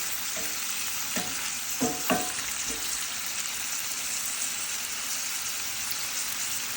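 Beef tips fry in oil and butter with a constant bright sizzle, and a few stirring scrapes and clinks break in early before the frying settles into an even hiss.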